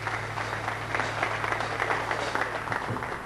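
Audience applause for a singer before a Milanese song, dense clapping mixed with a steady low hum.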